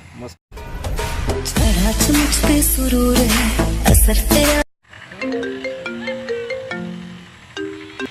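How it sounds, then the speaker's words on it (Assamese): A mobile phone's hello tune plays loudly as a melodic ringtone, a full musical passage that cuts off abruptly and then gives way to a thinner repeating chime-like melody. "মই শুনো দে আছে এটা ধুনীয়া হেলদিন দিছে তাকে শুনি আছো"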